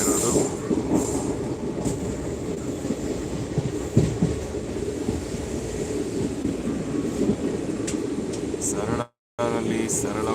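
A train rumbles steadily along with broadband rattling and a few faint clicks, a continuous interior ride noise with one brief dropout near the end.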